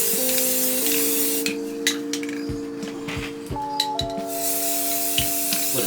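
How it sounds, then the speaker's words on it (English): Aerosol spray paint hisses in steady bursts onto a toy Chevy Silverado truck, a loud continuous spray broken by short pauses under sustained background music. "I'm just trying to get a good even spray on it."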